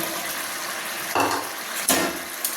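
Eggs dropped into a simmering potato and egg curry in a pot, giving soft bursts of sizzling and bubbling splashes over a steady frying hiss, with a couple of louder plops close by.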